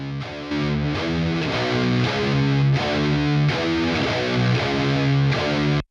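A heavily distorted, grungy electric guitar from a lead guitar track plays chugging chords in a repeating riff, loud and thick, with no voices.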